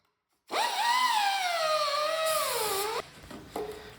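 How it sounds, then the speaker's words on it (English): A power tool cutting the ends off bolts on a buggy build: a loud, whining high-pitched grind that sweeps slightly downward in pitch for about two and a half seconds, then cuts out into a few faint clicks and scrapes. "So I'm cutting the ends of the studs off, or ends of the bolts off"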